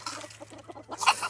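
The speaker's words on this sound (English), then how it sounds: "These two chickens right there" Two backyard chickens cluck in short, broken bursts close by, with a louder squawk near the end over a low steady hum.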